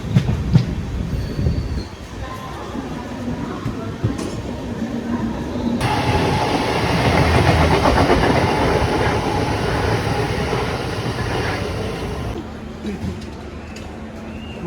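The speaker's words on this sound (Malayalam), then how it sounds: "നല്ല തിരക്കുള്ള റെയിൽവേ സ്റ്റേഷനാണ് താനെ." A train rumbles through busy Thane railway station in Mumbai, with steady loud rolling wheel noise, rhythmic clatter and a high screech of wheels partway through, close by, while voices talk over it.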